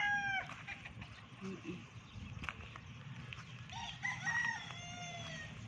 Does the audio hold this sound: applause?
no